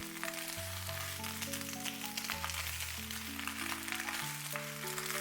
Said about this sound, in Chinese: 我们要全程开大火，不停的翻动